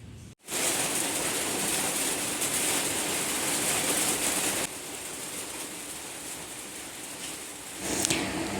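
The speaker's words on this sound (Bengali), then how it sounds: "ভালোই বৃষ্টি হচ্ছে বাইরে" Steady rain pours outside a house as a loud, even hiss that drops a little in level partway through, with no voices.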